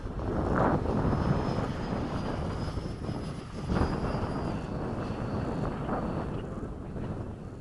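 An F-104 jet fighter flies past at high speed near the runway: a loud, continuous roar that swells slightly at moments and holds steady throughout, with no voices.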